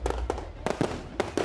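Firecrackers exploding at a large fair in Ramanagara, a series of sharp, loud bangs in irregular bursts with brief gaps between them.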